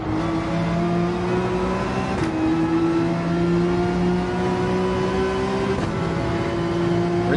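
A race car engine in Gran Turismo 7 holds a steady high whine that climbs gradually, drops sharply at a gear change, then climbs again before another shift, loud and close with no talking.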